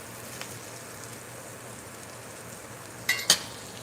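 Onions fry on a hot griddle with a faint, steady sizzle, then a couple of sharp scraping clicks from stirring near the end, all fairly quiet and close.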